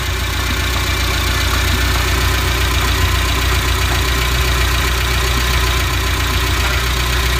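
A Suzuki Carry engine idles after a piston ring repair, giving a loud, close, even hum and rumble that runs unbroken throughout, with no talking.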